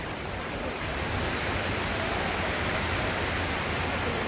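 Several waterfalls at San Pedro Soteapan pour in a steady, dense broadband roar, loud and unbroken throughout with no voices.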